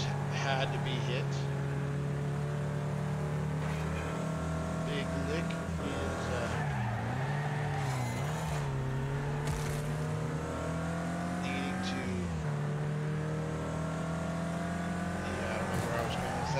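Race cars roar and rev continuously through a Wreckfest demolition race, engines droning close with skids and impacts as cars collide, while a voice talks over the action throughout.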